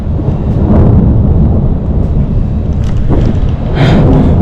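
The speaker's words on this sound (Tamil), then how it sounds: "கரெக்டா மழை பெய்ய ஆரம்பிச்சிச்சுங்க." A thunderstorm breaking over a desert camp as rain begins, with loud, continuous low rumbling thunder and a few sharper crackles near the end, no talk.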